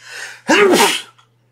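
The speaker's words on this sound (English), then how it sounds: "I'm about to sneeze." A single sharp sneeze, preceded by a short breathy intake, then quiet.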